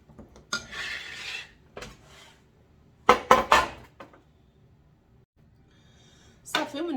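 A spoon clatters against a bowl while muffin batter made with one egg and a cup of milk is mixed, with a few short clinking scrapes early, a louder cluster of knocks midway and a final burst, between quiet pauses.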